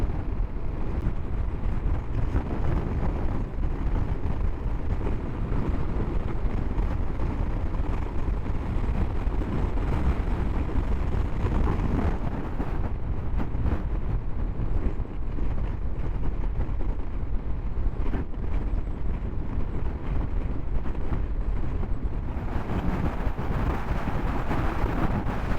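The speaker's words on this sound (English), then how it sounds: "Wind up here is very strong." Strong wind buffets an outdoor microphone high up along the North Coast 500 route in mainland UK, a steady loud broadband rumble that holds for the whole stretch with gusty surges and no voices.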